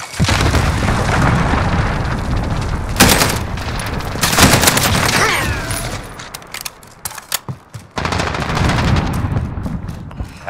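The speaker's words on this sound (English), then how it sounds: "Allied cruise missile launched." Battle din from Modern Warfare's Cranked mode on the Hardhat map, with a cruise missile strike amid dense automatic gunfire and booming explosions; loud, continuous volleys with sharp bursts and brief lulls, no talk.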